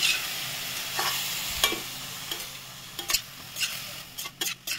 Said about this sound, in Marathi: आता हे तुपावरती 2-3 मिनिटं चांगले भाजून घेणार।